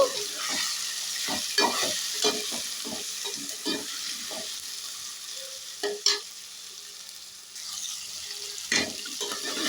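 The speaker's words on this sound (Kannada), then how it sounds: "ಈಗ ಇದಕ್ಕೆ ಫಿಲ್ ಮಾಡಿ ಇಟ್ಕೊಂಡಿರೋಂಥ ಹೀರೆಕಾಯಿ ಹಾಕೋತಾ ಇದ್ದೀನಿ ಚೆನ್ನಾಗಿ ಒಂದೆರಡು ನಿಮಿಷ ಇದು ಎಣ್ಣೆಯಲ್ಲಿ ಫ್ರೈ ಆಗಬೇಕು" Ridge gourd frying in hot oil, a steady close sizzle with stirring scrapes and clinks spread through the stretch, no voices.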